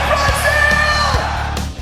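A heavy metal concert crowd yells and whoops together, a loud, sustained roar of massed voices lasting under two seconds.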